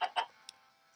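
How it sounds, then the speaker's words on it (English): Short clucks from a chicken in Minecraft, two quick soft calls close together and a faint tick after, fairly quiet with no other sound. "Why is there a chicken here?"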